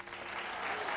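A studio audience at The Eve Show television talk show keeps applauding, a faint, steady patter of many hands that stays even throughout one brief second.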